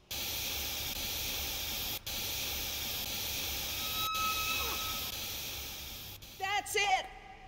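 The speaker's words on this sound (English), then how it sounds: "The steam has been vented." Steam venting in Jurassic Park: The Game, a steady broad hiss that runs through the whole stretch and ends in a brief louder flurry of tones near the close.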